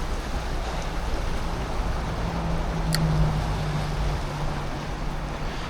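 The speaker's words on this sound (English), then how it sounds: "You might hear a few cars behind me. I'm right next to the road here." Steady broadband road rumble with a low engine hum swelling and fading as a car passes nearby, heard from a creek bank at Barmah and Broken Creek, continuous traffic noise in the background, no talking.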